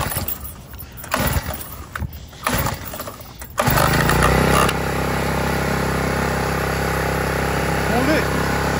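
A Blaze 4-stroke gas scooter engine is pull-started; a few short rattling pulls are followed by the small engine catching and settling into a steady, loud idle, with a voice speaking over the early pulls.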